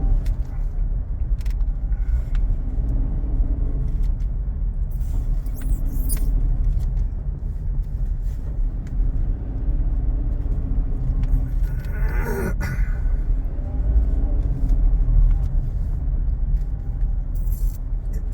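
Car traffic on a road in Cebu rumbles as a steady low drone of idling and slow-moving engines heard from inside a vehicle, with occasional rattles and brief faint sounds passing by.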